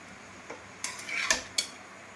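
Chowmein stirred in a pan after black pepper is added: a few sharp metal scrapes and clinks of utensil against pan, with a faint sizzle, close and fairly quiet.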